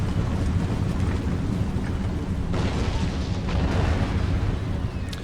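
Mortar rounds exploding during an attack on a fort in Empire Total War, with a continuous heavy rumble of blasts, loud and dense throughout, and sharper bursts rising from the roar.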